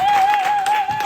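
A church congregation claps in acclamation during a worship service, a dense, steady wash of applause with a sustained high tone ringing above it throughout.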